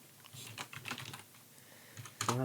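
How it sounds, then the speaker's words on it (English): Quiet, irregular keyboard tapping, a scatter of soft clicks, ending with a louder burst of noise. "I hear typing."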